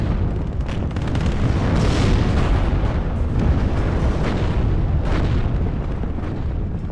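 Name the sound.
bombing run explosions in WARNO video game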